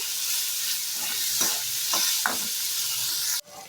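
Tomato, onion and potato being stirred as they fry in a pan, with a steady close sizzle and a few scraping stirs before the sound cuts off near the end.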